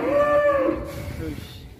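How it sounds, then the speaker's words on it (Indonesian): A cow lows once in a cattle barn during a livestock contest, a drawn-out moo fairly close and loud over people talking and general barn bustle. "Sapi kesayangan Pak Haji Bambang"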